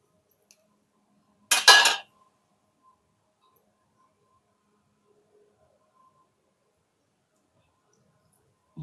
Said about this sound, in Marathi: चला मी आता लिंबू कापून घेते.